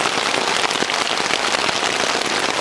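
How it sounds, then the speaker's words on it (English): Steady rain patters on tents at an overnight camp during a glacier river rafting trip, a dense, continuous hiss of drops close around with no talking. "our river rafting overnighter has been hit with some rain"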